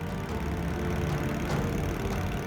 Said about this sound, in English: A 10-horsepower engine as mighty as a motorbike